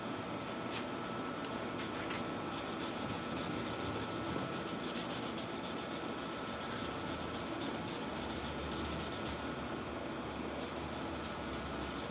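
Steady, continuous rasping rub of hand sanding a metal sword blade, even and unbroken throughout, close up with no voices.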